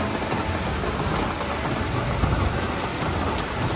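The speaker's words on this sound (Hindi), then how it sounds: "देखो बहुत तेज़ बारिश हो रही है" Heavy, nonstop rain pours down in a steady, dense roar, loud and close throughout with no letup and no voices.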